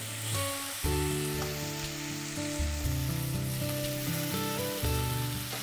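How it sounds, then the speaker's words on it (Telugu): Lobster sizzles steadily in butter and garlic in a hot pan, a continuous close frying crackle with a low bed of background music. "ఇందులో ఇప్పుడు లాబ్స్టర్ వేస్తున్నాను నేను"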